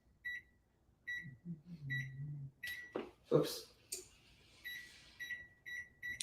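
A kitchen timer being set for 20 minutes while sheet pan fajitas cook, giving short sharp electronic beeps at a steady pace, one per button press. A brief burst of talk interrupts partway through, then the beeping resumes.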